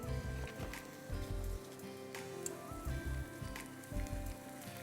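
Onions browning in a pan for qeema biryani, giving a soft, steady sizzle with faint crackles and a few low knocks, quiet and continuous.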